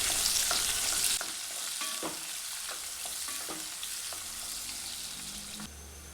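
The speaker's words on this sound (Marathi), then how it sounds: "मीडियम साईजचा कांदा ते बारीक चिरून यामध्ये टाकायचे. कांदा हा 1 मिनिटभर तेलामध्ये छान असा परतून घ्यायचा" Finely chopped medium onion frying and being stirred in hot oil in a pan, a steady close sizzle with scattered stirring clicks and scrapes, no voices.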